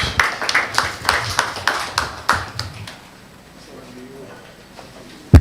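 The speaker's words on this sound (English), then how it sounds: "Let us give him a round of applause." An audience at a criminal law review conference claps for a speaker, a sparse, loosely rhythmic burst of individual claps that thins out and stops midway, leaving quiet room tone and a sharp knock at the end.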